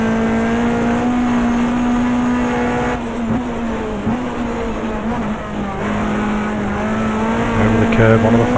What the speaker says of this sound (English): Blanchard next up in the Murray Auto Repairs BMW M3.